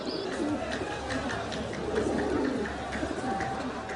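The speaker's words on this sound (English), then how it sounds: "So this is a carrier pigeon, its base is here" A carrier pigeon coos and flutters in Egypt, with steady soft cooing and rustling close by, set against the chatter of people in the background.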